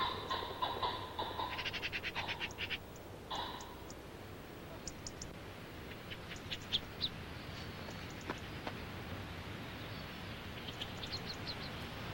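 Young pheasants in open outdoor pens give thin, high chirping and peeping calls in scattered bursts over a steady, hissy outdoor background.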